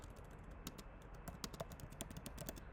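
Quiet, rapid clicking of keys as a prompt is typed on a computer keyboard, an irregular run of light taps close by with no voices.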